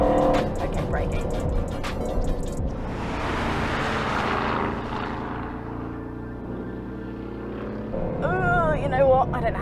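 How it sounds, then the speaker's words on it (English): An Aston Martin Vantage F1's V8 engine roars and revs up and down through gear changes on a race track, with a person talking over it inside the car. "That noise of the V8 is just, whew, that's insane."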